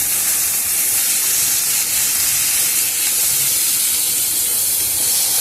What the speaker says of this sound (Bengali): আস্তে একটু নেড়ে চেড়ে যতক্ষণ কাঁচা গন্ধটা থাকে ততক্ষণ আমি ভাজবো।